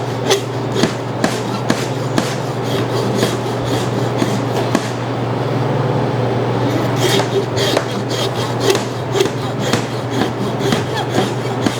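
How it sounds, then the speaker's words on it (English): A hand saw cuts through hog rib bone in steady back-and-forth rasping strokes, close and continuous, with sharp clicks and knocks scattered through, set against a low constant hum. "I'm still cutting through some of those ribs"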